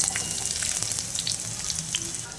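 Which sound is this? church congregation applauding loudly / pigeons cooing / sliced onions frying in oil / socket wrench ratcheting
sliced onions frying in oil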